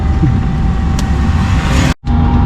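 A truck on a road passes close by in a coastal expat town in Thailand: a loud, steady engine and tyre roar with broad rumble, briefly cut off near the end, no speech.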